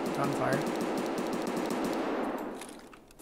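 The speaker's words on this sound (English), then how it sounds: "Oh, gunfire." Automatic gunfire in the Escape From Tarkov shooter on the Shoreline map, a rapid burst of shots rattling continuously before fading out, with a voice briefly audible under it.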